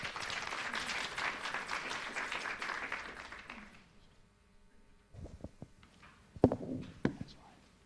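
Audience applause welcoming speakers at a talk on bed bugs in healthcare settings: a dense patter of clapping that fades away after a few seconds, followed by quiet room noise with scattered thumps and knocks.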